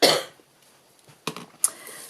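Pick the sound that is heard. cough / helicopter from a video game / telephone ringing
cough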